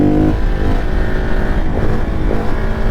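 A KTM 690 SMCR supermoto motorcycle rides along a road, its single-cylinder engine droning steadily with a slight rise and fall in pitch and no voices.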